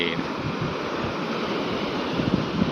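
Sea waves washing onto a beach in Rayong, a steady broadband wash of surf with some wind noise, continuous and fairly close, with no talk over it.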